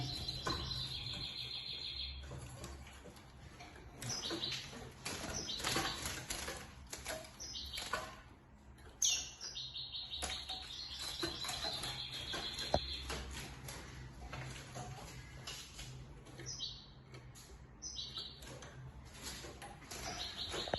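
Young goldfinch hybrid chicks, this season's brood of five, chirp in repeated high bursts against a steady low hum, with scattered soft wing flutters throughout.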